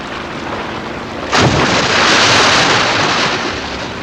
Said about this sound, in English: Breaching like this, jumping clear of the water and re-entering with a loud splash